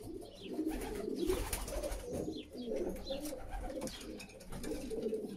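Racing pigeons coo in a loft of male birds, soft repeated throaty coos from several birds close by, quiet and overlapping, with faint rustling between calls.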